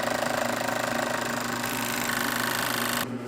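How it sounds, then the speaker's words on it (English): A Juki 2516 five-thread overlock machine trims and stitches fabric with a steady, loud, even mechanical whir and fast rhythmic chatter running throughout. The hum shifts partway through and drops off near the end. "So it trims that jagged edge, puts a finished overlock on there."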